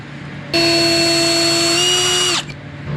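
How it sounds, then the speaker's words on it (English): A power drill fitted with a spring-loaded bit bores a hole during cabinet door and drawer building in a Sprinter campervan, one loud steady whine of about two seconds that stops abruptly. "So this is a spring-loaded drill bit."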